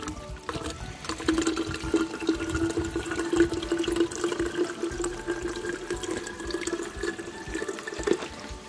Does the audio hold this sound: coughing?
no